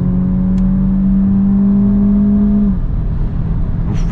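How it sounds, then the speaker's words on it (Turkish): Peugeot 3008 180 hp engine held at high revs in sport mode, a loud steady drone from inside the car that drops abruptly near the end of the run. "Çok devir çeviriyor ya. Hani hemen vites atmıyor."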